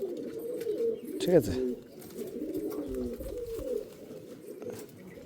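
Pet pigeons cooing close by, with soft repeated throaty coos and a louder call early on, while someone talks over them.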